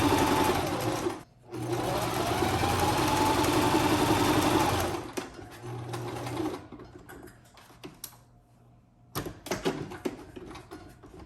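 A sewing machine stitches a small patriotic flag pillow, running in a long steady burst, then in shorter bursts and stops, close and loud with no talking.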